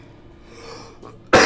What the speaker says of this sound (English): I keep coughing now.